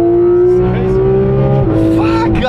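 A Porsche GT3 RS lapping the Nürburgring, its engine note loud and sustained from inside the car, pitch holding steady then dropping slightly, with a voice talking over it.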